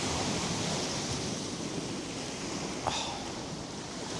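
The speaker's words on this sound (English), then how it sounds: "The wind's picked up" Strong coastal wind roars steadily at a fishing spot by Brackenbury Fort, a broad even rush of noise buffeting the microphone with one brief sharp knock near the end.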